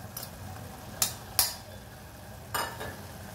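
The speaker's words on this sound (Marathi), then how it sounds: "आता हा सगळा बटाटा घालून घेऊ" Potatoes for a potato bhaji go into a frying pan and get stirred, a low steady sizzle broken by a few sharp metal scrapes and clanks of a spoon against the pan.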